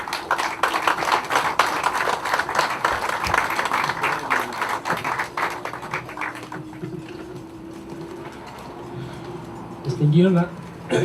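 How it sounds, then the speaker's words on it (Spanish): Applause from a seated audience at a project launch for an aviation center and tourist service headquarters, loud clapping for several seconds that thins and fades, followed by quieter room sound and a voice beginning to speak. "Eu quero para você receber com forte aplauso."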